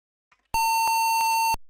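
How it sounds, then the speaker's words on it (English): A single sustained electronic beep from the Police Quest 4 computer game, played in Sound Blaster mode, holds at a steady pitch for about a second, rings out clearly and stops abruptly after a short click. "Sorry about the beeping. It's because I'm used to playing it in a different mode"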